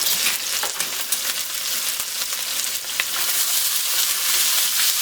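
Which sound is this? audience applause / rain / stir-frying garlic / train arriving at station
stir-frying garlic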